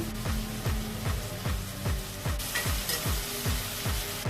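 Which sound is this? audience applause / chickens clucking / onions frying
onions frying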